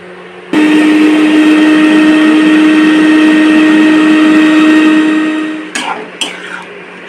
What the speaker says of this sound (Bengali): সর্ষে পোস্ত আর একটা কাঁচা লঙ্কা আগে বেটে নিই